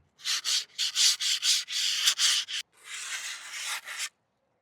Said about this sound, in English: run that across the outside of the board and give it a bit of a sand